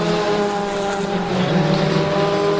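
A historic Reynard Formula Ford 2000 race car at Brands Hatch holds a loud, steady high-revving engine note as it passes close by, the tone shifting slightly as it goes.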